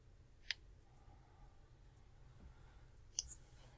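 A computer mouse left button clicked and held, heard as two faint, sharp clicks about three seconds apart over quiet room hiss.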